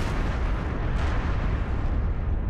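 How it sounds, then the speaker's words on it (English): A huge roaring blast of dense, broadband rumble fills the sound for a couple of seconds, loud and sustained: the explosion of the Deepwater Horizon offshore drilling platform in the Gulf of Mexico. "a powerful explosion rocks the Deepwater Horizon drilling platform in the Gulf of Mexico"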